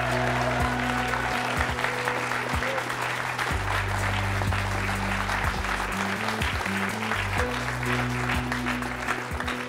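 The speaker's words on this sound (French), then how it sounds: "Je vous demande d'accueillir et d'applaudir nos deux premiers invités, Dins et Dominique." A French television talk show studio audience applauds two arriving guests, sustained, dense clapping at close range over a low music bed lasting the whole stretch.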